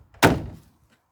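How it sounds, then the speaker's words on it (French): A door pulled shut with a single close, dull thunk followed by a short resonant decay, alone with no talking. "fermez-moi la porte"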